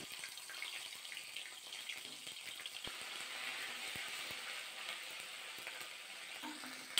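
Ginger paste sizzles softly in hot oil with whole cumin and asafoetida in a pan, making a faint, continuous frying hiss with occasional small clicks.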